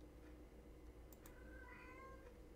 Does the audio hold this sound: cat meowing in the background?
yes